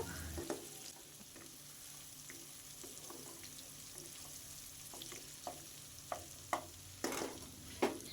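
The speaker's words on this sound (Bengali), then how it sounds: "এরপরে আমি এর মধ্যে অ্যাড করে দেবো সামান্য কিছুটা টমেটো কুচি খুব ভালো করে মিক্স করে নেব" Raw spices and chopped tomato stirred in a frying pan: a quiet background sizzle with scattered spoon scrapes and taps that grow sharper toward the end, heard up close.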